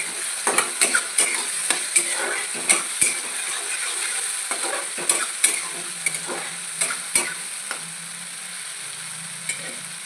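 Tomatoes fry in oil while a spoon stirs them, with a steady hiss and a quick run of sharp scrapes and knocks that thin out toward the end.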